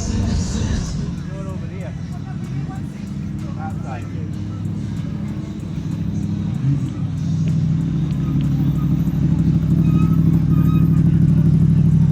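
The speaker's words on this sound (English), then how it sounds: "the race has just started. They've literally just set off." Race cars setting off from the start line on a track, a loud continuous engine roar that builds and holds steady, with voices and crowd murmur mixed in underneath.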